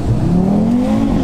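A car with a stock exhaust and an aftermarket downpipe revs close by, its engine note climbing steadily in one loud, continuous pull over a steady rumble.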